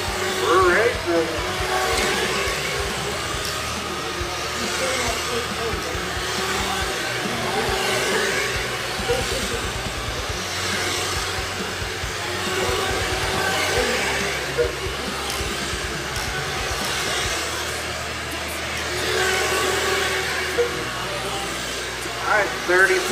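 Remote control cars racing on an outdoor raceway, giving a continuous high-pitched whine of electric motors that swells and fades as the cars pass, with a commentator talking throughout.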